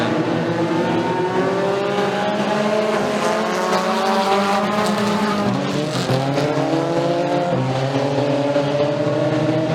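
Race cars roar down the back straightaway during a heat at Bradford Speedway, several engines overlapping in loud, continuous rising and falling whines as the pack passes.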